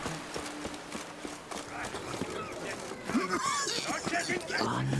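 Roach the horse gallops in Witcher 3: Blood and Wine, hooves beating in a quick, even rhythm while someone talks over the top.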